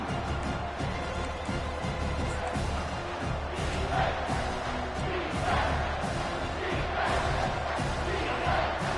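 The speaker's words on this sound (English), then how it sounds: "And here comes the noise. This crowd is trying to inspire his defense to make a big red zone stop." A roaring football stadium crowd at an Ohio State game swells to urge the defense on during a red zone stand, a loud continuous wash of cheering and yelling with a broadcast commentator's voice underneath.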